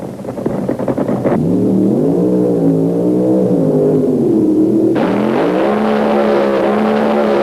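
A Hemi-engined Plymouth Satellite drag racing car, rated at 1,750 horsepower and racing a Gremlin at an early-1970s drag strip, roars loud and close, its engine pitch rising and dipping steadily across the run before surging harder near the end.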